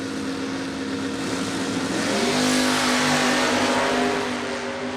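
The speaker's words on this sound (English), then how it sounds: "That is an interesting pair of Mustangs to line up side by side." Two Mustang drag cars at a door-car drag racing event rev and accelerate side by side, a loud sustained engine roar that climbs in pitch midway and holds strong to the end.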